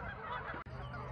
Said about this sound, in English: these fucking geese are laughing at me